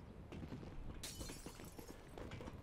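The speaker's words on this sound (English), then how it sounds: "I'm hearing smashing glass" Glass smashes in the GTA 5 video game, a sudden bright shattering crash over a muffled background bed, with no voices.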